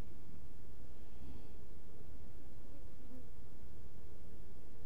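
Honey bees at a hive colony, a continuous low buzzing drone heard up close for a few seconds, with no talk.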